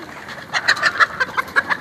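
A chicken clucking close by in a short run of rapid, uneven clucks, fairly loud and alone, while people try to catch it.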